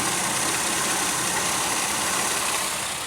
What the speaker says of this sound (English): Obviously the engine is bogged down a little bit.